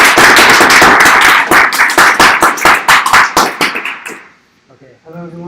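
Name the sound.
round of applause welcoming speaker Khush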